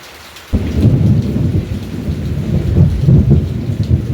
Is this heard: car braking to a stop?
no